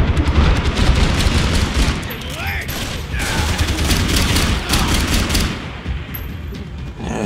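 Dense bursts of rapid gunfire from a Max Payne 3 shootout in an apartment level, loud and close, with overlapping automatic fire and booming shots in a sustained barrage.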